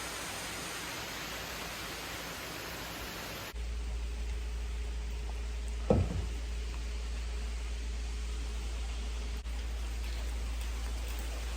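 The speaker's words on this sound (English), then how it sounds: "Just started to freaking rain outside." Steady rain falling outside during a pickup truck taillight install, a broadband hiss that grows heavier partway through, with one brief bump near the middle.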